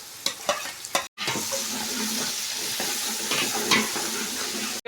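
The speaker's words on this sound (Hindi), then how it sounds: "अब इसमें टमाटर ऐड कर देंगे।" Chopped tomatoes go into hot oil for a village-style chicken biryani. A few quick knocks come first, then after a brief gap a loud, close sizzle hisses on steadily without talk.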